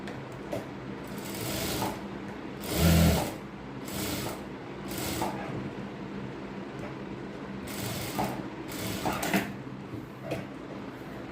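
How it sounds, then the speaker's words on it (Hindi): A sewing machine stitches across the pocket section of a ladies' pant in short bursts. Close whirring runs of stitching are separated by quiet pauses, and a slightly louder run comes early on. There is no talking. "पलट के इस पॉकेट वाले हिस्से पे, ऊपरी वाले हिस्से पे एक सिलाई लगाएंगे"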